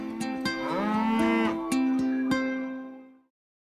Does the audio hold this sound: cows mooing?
yes